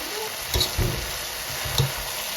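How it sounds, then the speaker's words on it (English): Ground beef browns and leeks saute together in a pan, giving a steady soft sizzle with a few light scraping knocks from stirring. "I'm currently working on browning the hock or the ground beef and also sauteing the leeks in with that now"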